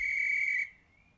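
A referee's pea whistle gives one steady, shrill, fairly loud blast lasting just over half a second, then cuts off sharply, leaving near silence with a faint tail.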